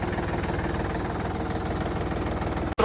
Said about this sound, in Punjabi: ਮਸ਼ੀਨ ਚਾਲੂ ਕਰਤੀ